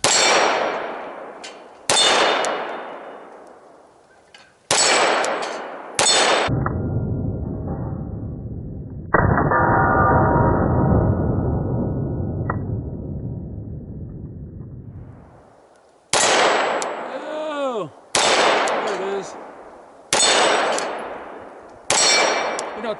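Pistol shots from a micro RONI pistol conversion ring out against steel targets, several sharp loud cracks each followed by a metallic clang and decaying ring, with a stretch of sustained rumbling noise in the middle.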